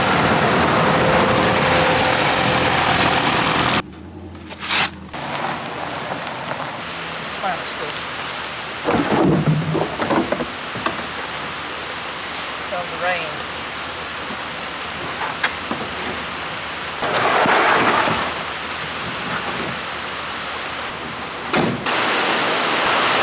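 A heavy thunderstorm in Alabama: loud, dense rain drums steadily throughout, broken by several rumbling thunder rolls and cracks.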